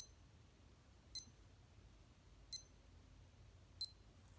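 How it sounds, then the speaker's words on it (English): Four short, high-pitched electronic beeps from a SKMEI 1628 digital watch, a Casio G-Shock knock-off, spaced at even intervals over near silence. "You'll notice even the beeping noise"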